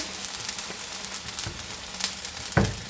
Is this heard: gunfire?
no